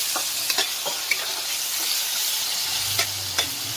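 Garlic and ginger stirred and fried in a pan of oil for a Bengali fish and potato curry, a steady close sizzle with a few sharp spatula scrapes and knocks, no talking.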